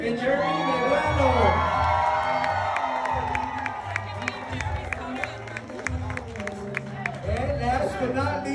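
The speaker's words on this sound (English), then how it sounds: "big round of applause for Karina Santa Cruz and Jerry Medrano" Wedding guests applaud and cheer as couples are introduced, a crowd of claps, whoops and shouts over music, with a voice talking through the sustained noise.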